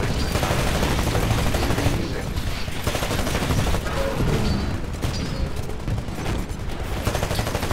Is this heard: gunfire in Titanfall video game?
yes